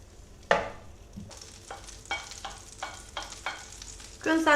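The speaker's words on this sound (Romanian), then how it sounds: "Într-o tigaie punem untul la topit." Butter melting in a frying pan, a light crackling sizzle with a sharp initial hit followed by repeated short scraping or stirring bursts, close, ending in a louder sizzle, no speech.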